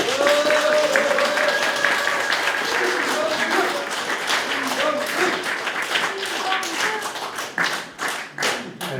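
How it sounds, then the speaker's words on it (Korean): Applause at a Korean parliamentary candidate's campaign press conference, dense clapping from a roomful of people that starts loud, then thins into scattered claps over a few voices. "다시 한번 큰 박수 부탁드립니다."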